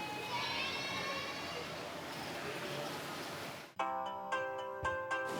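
A phone ringtone begins partway through, a clear repeating electronic tone pattern that rings several times after a stretch of busy background noise, loud and close.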